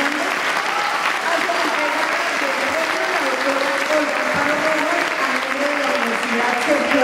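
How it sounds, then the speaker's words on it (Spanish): Award ceremony audience at the MUSSICO awards in Bogotá applauding a pianist, a steady, loud wash of clapping that carries on throughout, with some faint voices underneath. "Un aplauso para la maestra."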